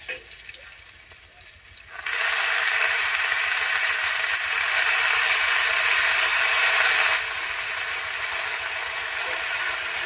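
Red amaranth greens drop into a hot kadai of mustard oil with fried garlic and green chilies, setting off a sudden loud, dense hiss that holds steady, then eases slightly but keeps sizzling.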